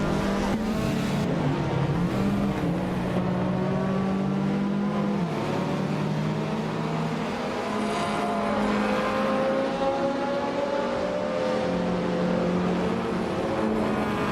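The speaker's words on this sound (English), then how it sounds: "The cars are already zooming around the track" Racing video game cars, including a 1991 Toyota Celica, roar loudly around a figure-eight track, with engine tones rising and falling as the cars accelerate and shift. The sound is continuous and dense, and no one talks.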